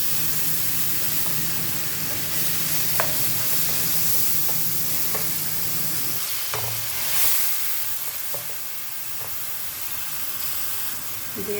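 Onion paste going into hot oil with cinnamon, cloves, white cardamom and bay leaves for a beef korma, giving a steady sizzle and hiss with scattered clicks of stirring, close by and without talk.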